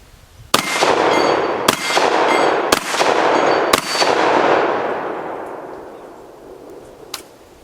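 An SRM1216 16+1 shotgun fires four loud blasts about a second apart outdoors, each echoing and ringing out, followed by a faint metallic click.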